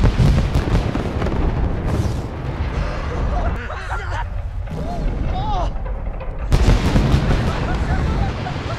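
Special-effects explosions from a Norwegian war film about Max Manus, with loud rumbling blasts and bursts of debris running throughout and a fresh heavy blast near the end, amid dense action noise.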